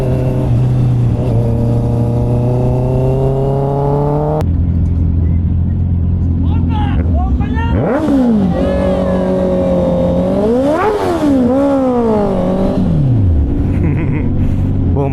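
Motorcycle engines, including a Honda CB650R, revving loudly on a mountain road loop, with rising and falling throttle blips, pitch sweeping up and down through several rev bursts, close by and dominating.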